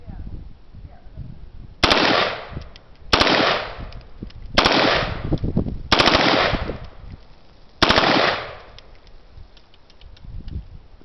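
An M16 rifle fires five short automatic bursts, each loud, sharp and rattling, separated by pauses of one to two seconds against low background noise.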